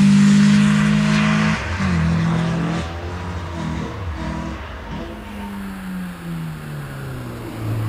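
Roadster engine revving on the start line at the Wiscombe Park hillclimb, a loud low drone at first, then several rising and falling revs that settle into a quieter idle.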